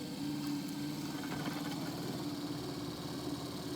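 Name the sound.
adjustable brake pedal actuator motor running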